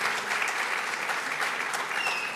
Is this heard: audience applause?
yes